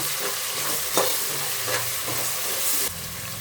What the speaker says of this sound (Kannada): ಶುಂಠಿ ಬೆಳ್ಳುಳ್ಳಿ ಪೇಸ್ಟ್ ಹಾಕ್ತಾಯಿದ್ದೀನಿ ನೋಡಿ. ಅದು ಸ್ವಲ್ಪ ಹಸಿ ವಾಸನೆ ಹೋಗಲಿ,